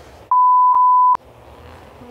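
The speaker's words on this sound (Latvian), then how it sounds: "noņem tos pīkstuļus, vairs nedzirdu, ko es pats runāju" Three sharp electronic beeps at one steady pitch, the first two short and the third longer, heard over a quiet room background.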